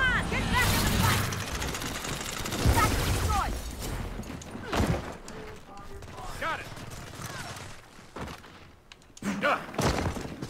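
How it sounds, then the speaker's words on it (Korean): Bombs exploding and gunfire erupt in a Gears of War 4 Horde mode multiplayer match, with dense, loud bursts of thuds and crashes running through most of the stretch while someone talks over the game. "뭐 여기다 폭탄 던졌냐?"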